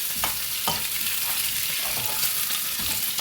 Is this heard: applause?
no